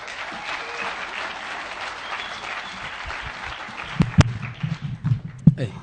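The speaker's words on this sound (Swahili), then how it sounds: "Sioni kama mmepigia umrembo ile makofi anadeserve." Audience applause at a live Kenyan television show with reggae performers, a steady broadband patter of clapping throughout, joined near the end by louder, sharper individual claps and bursts close by.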